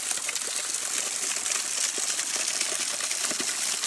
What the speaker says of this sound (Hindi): ये यहाँ पे देखो एक झरना है, छुटकू सा झरना ऊपर से आ रहा है।